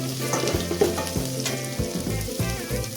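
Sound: rice being roasted in a pan

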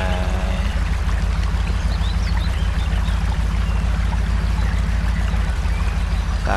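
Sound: truck crossing a river in video game Spintires: MudRunner

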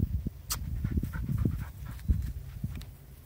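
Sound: dog panting

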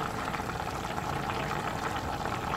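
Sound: chicken stew boiling vigorously in a pot

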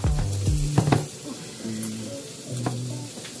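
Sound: butter sizzling in frying pan

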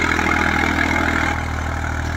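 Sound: Eicher 333 tractor engine running

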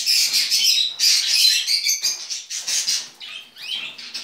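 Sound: cockatiel chirping

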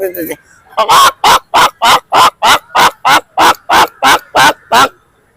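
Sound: person imitating an egg-laying hen clucking

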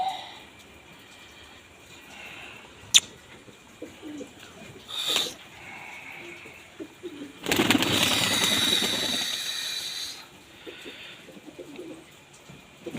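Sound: pigeons cooing, blue female pigeon

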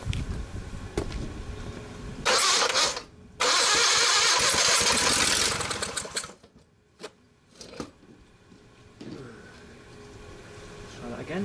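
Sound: Onan generator engine being started

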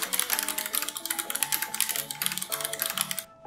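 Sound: Razer Ornata Chroma membrane keyboard keys clicking

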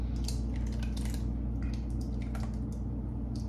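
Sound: pouring vodka sauce into pot of sausage and pasta

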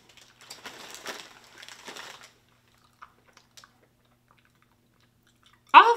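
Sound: chewing toffee

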